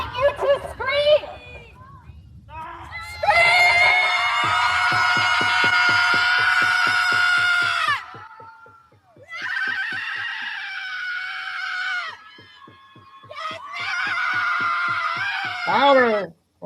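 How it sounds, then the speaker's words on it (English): A group of women scream together outdoors in a New York City park, heard as long, loud, sustained shrieks that break off and start again in waves, with gasping breaths and a few short voice sounds between them. "And now I invite you to scream!"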